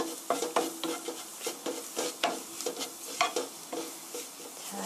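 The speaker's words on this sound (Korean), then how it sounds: "잘 넣어줬으면 노릇노릇하게 맛있게 볶아주시고요" Flour stir-fried golden in a pan for a broccoli cream sauce, with regular scraping strokes of a utensil against the pan over a soft sizzle, close and rhythmic without speech.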